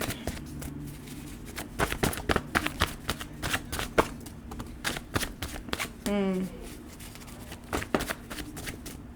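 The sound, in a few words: tarot card deck being shuffled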